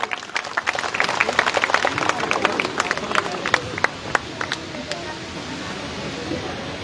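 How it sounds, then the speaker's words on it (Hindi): A crowd at a public women's event in India gives loud, sustained applause, dense overlapping clapping with sharp individual claps standing out, fading slightly toward the end while voices murmur underneath. "ये देखें जोरदार तालियां"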